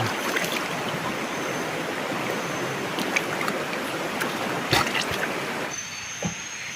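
River water rushes steadily, close by, at night in a forest while someone bathes, with a few small splashes and no voices.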